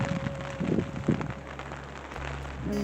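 Rain falls steadily on flooded paddocks where horses stand, a broad hiss that continues throughout with a few heavier patter bursts and low rumbling underneath.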